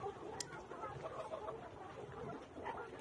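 Chickens clucking at a poultry farm, with soft, scattered clucks and calls over a constant low background hum, fairly quiet and without any talking.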